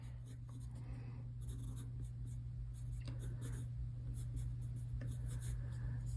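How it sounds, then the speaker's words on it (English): A pencil sketches lines on paper, making soft, steady scratching strokes in short repeated passes. The sound is close and quiet over a low background hum. "I'm gonna get the other shapes kind of sketched in."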